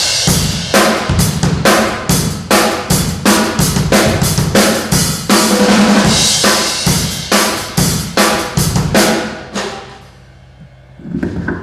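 Beginner-style drum kit playing with an uneven, drifting tempo: loud, close hits and crashes land at irregular intervals for about nine seconds, then the sound decays to a quieter tail before one more hit.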